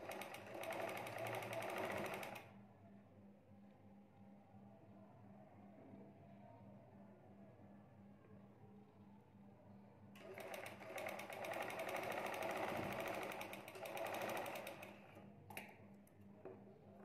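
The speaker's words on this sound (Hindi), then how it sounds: "इस तरह इनके शोल्डर जोड़ेंगे और सिलाई लगा देंगे यहाँ।" Sewing machine stitching the shoulder seam of a baby girl's dress, running in loud rapid bursts at the start and again near the end, with a quieter steady hum between.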